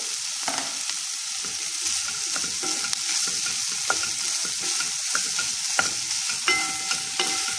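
Mushrooms are stirred into a sizzling crème fraîche sauce with bacon lardons over medium heat, a steady close fry with scattered spoon scrapes and taps against the pan and no voices.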